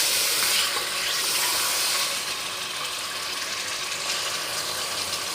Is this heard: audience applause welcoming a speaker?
no